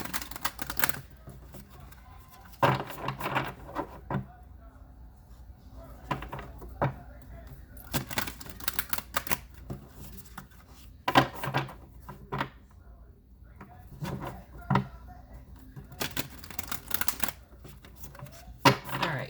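An Angels and Ancestors oracle card deck is handled and shuffled, giving repeated crisp card riffles and taps in irregular bursts, close and moderately loud, with no talking.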